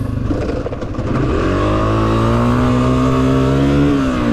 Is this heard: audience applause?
no